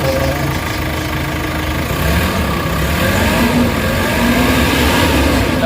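A Hyundai H100 engine, treated for poor pull and sluggish acceleration, revs loud and close, its steady mid-pitched drone rising and holding without a break.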